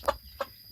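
Pradu Hang Dam black-tailed hen from Chiang Mai gives three short, close clucks at a steady, evenly spaced rhythm, each a brief burst, with quiet background in between.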